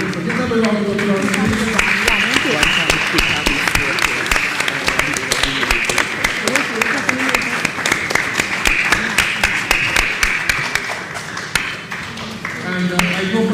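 Dense, loud audience applause fills a hall at a primary schools quiz, a continuous rattle of many hands with voices and other sounds running underneath.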